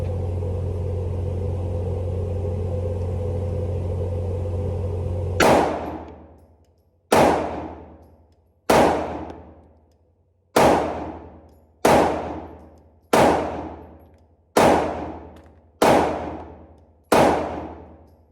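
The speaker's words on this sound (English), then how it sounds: "shooting at 7 yards. So I'll flip the camera around and see which one I group better. Okay, here we go. Go with the Sig 229 first." Sig P229 pistol fired at 7 yards, nine loud sharp gunshots spaced about 1.5 seconds apart, each with a quick decaying echo, following several seconds of steady low rumble.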